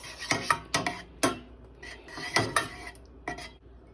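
A spoon stirs melting butter in a pan on the stove, giving a quick series of close metallic clinks and scrapes against the pan, irregular and unaccompanied.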